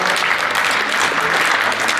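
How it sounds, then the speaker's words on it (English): Dense, steady applause from a large audience at a stage show as the curtain opens, loud and close, with a faint voice beneath the clapping. "And the curtain opens and the audience applauds."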